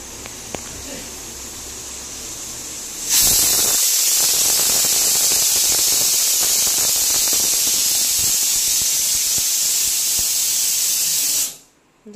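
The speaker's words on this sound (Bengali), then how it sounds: "প্রেসারের ভাপ খুলে গেছে বলে আলুটাকে বের করে রেখেছি" Pressure cooker steam vent bursts open into a loud, steady hiss that runs unbroken for about eight seconds before cutting off abruptly, with quieter kitchen noise before it.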